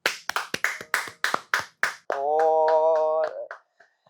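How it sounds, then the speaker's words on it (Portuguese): About eight sharp, separate handclaps ring out in quick succession, then give way to a sustained tonal note that holds for about a second before cutting off. "Palmas para Chay Suede."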